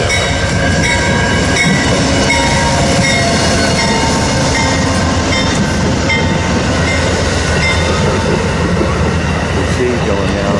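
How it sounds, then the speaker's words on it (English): Eastbound Amtrak California Zephyr passenger train with Superliner cars passing near Omaha, Nebraska, a loud continuous rumble of rolling wagons and rail noise throughout, with faint wheel squeal and clatter. "This is the eastbound California ZEPHYR."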